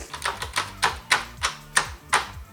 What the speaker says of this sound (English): Keyboard is nice. Keyboard is smooth.